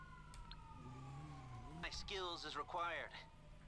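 A police siren wails in GTA 5 Online while the player is chased, with rising and falling tones swelling louder over a vehicle rumble as someone talks throughout.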